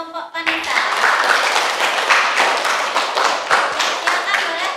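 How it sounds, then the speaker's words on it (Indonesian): A classroom of students claps for a student group after its presentation, giving dense, close applause that starts abruptly and continues steadily to the end. "Tepuk tangan buat kelompok Vanessa."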